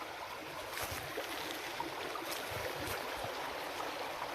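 Water runs steadily through a roughly 200-year-old British-era canal near Kyari village, Ramnagar, Uttarakhand, a soft continuous rushing and trickling with no voices.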